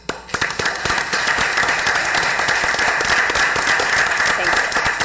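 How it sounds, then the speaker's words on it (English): Residents at a city commission meeting receive a round of applause, dense clapping from a crowd that starts with a few sharp claps and swells into a loud, sustained ovation. "I'm just going to give you a stand applause for all your hard work and all your effort in opposing this"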